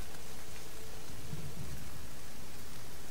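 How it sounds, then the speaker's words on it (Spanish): A rainstorm rolls across an alien planet in No Man's Sky, a dense, steady hiss of heavy rain with a low rumble of thunder swelling underneath, loud and enveloping with no voices. "Advertencia climatológica, tormenta inminente."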